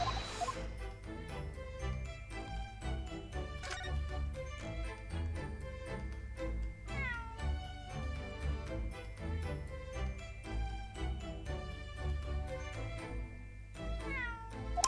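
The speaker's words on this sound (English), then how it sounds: "That was a cheeky little meow guy." A cartoonish cat meows a few times in The Great Ace Attorney 2: Resolve on the Switch, with short gliding cries set against busy, steady background music and no talking.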